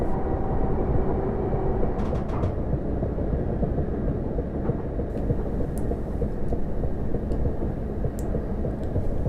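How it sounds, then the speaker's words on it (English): A Class 456 electric multiple unit coasting with power shut off in Train Simulator between South Croydon and East Croydon: a loud, steady rolling rumble with a few faint clicks over the rails and no speech. "at this point we will shut off power and let the train coast"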